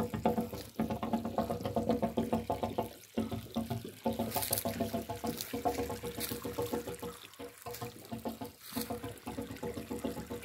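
Water gushes and splashes continuously from the hose of a non-electric water pump, a steady pouring flow with brief dips and gurgles.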